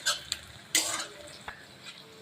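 Green chillies with onion fried to a reddish brown crackle in a pan for Bengali chicken kosha, heard as a low sizzle broken by a few sharp stirring scrapes and clinks of the spatula. No one speaks.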